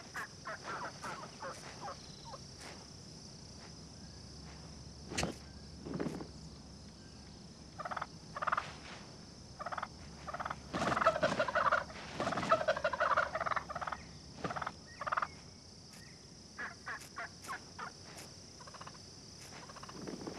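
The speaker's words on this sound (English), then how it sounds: "Every flock has a dominant gobbler." Wild turkey gobbling in a rural outdoor setting, repeated rattling gobbles from a dominant tom rising over a steady background of insect and cricket chirps, with a louder burst of calls in the middle.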